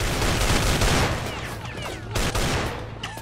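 Rapid bursts of assault rifle fire in the Roblox game Brookhaven, loud and continuous fusillade with overlapping shots throughout.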